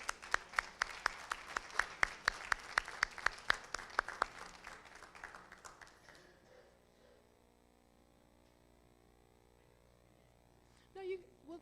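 At a school board meeting, an audience claps for school representatives: sparse, sharp individual claps stand out against the room, then fade out after about six seconds, leaving a quiet hum and a brief voice near the end.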